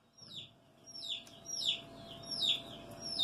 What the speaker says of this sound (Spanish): Si escuchan ruido de pollitos, son mis pollitos.